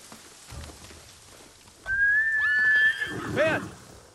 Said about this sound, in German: Unser Pferdchen.